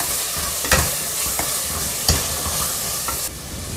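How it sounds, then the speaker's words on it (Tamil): Spices and ground coriander sautéing in a pan for a village-style soya and jackfruit-seed curry, giving a steady sizzle with a few sharp clinks of a stirring spoon against the pan, close and continuous. "கொஞ்சம் வதக்கி விடுவோம்."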